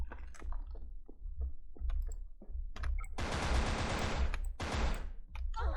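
Gunfire in the online shooter Wolfteam, scattered sharp shots and clicks at first, then a loud sustained burst of automatic fire in the second half, with brief bursts after.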